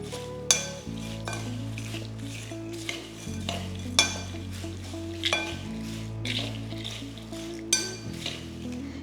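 Kerala mixture snack being tossed with compounded asafoetida and salt in a bowl, with a steady scraping stir and repeated light clinks of a utensil against the dish, close and clear with no talking.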